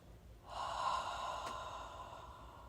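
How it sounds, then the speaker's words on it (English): A long, steady breathy exhale in a guided deep-breathing exercise, sustained and fairly close, starting after a short pause and fading slowly, with no talking over it. "Exhale, let it out."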